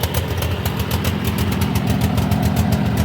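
A Cub Cadet engine with 965 hours, worn out and smoking, idles rough at low power, a loud, close, uneven low chugging pulse that runs steadily without talk.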